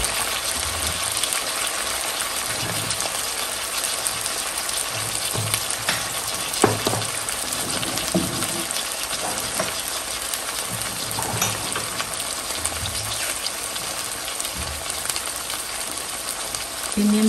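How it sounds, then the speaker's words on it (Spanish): Meat sears in a pan with chicken bouillon, salt and pepper, giving a steady, close hiss and sizzle with occasional stirring clatter and no talk. "Aquí lo voy a dejar un momento nada más para que empiece a sellarse todo esta carne"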